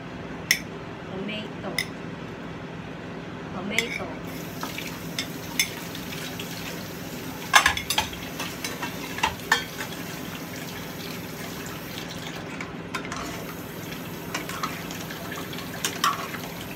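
Carrots are mixed into stewed oxtail in a pot, with soft wet stirring, occasional utensil clicks against the pot and a low simmering bed underneath, close and fairly quiet with a voice speaking at times.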